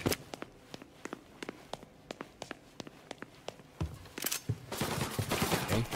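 Gunshots in the Mafia video game, a run of sharp single cracks spaced unevenly in the first seconds, then heavier, denser firing and a rising noisy burst near the end.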